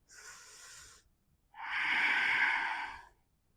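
Two slow breaths are taken while holding a yoga pose, a shorter airy exhale followed by a longer, louder rushing breath, close to the microphone with silence between.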